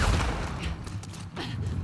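An enemy fires in The Last of Us Part II: a dense, rumbling volley of shots, followed by a few more scattered cracks, all loud and close.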